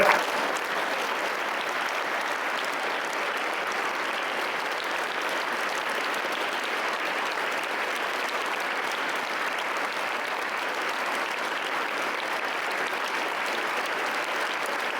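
A room of students claps steadily for fifteen seconds, each person counting their own claps, producing a dense, even wash of applause at constant loudness with no voices.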